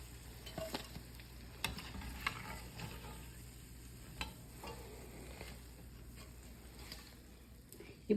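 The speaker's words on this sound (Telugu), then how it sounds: "మీరు బజ్జీ వేగిపోయింది" Mirchi bajji chili fritters fry in hot oil with a steady, fairly faint sizzle, broken by occasional stirring knocks and clicks from a utensil.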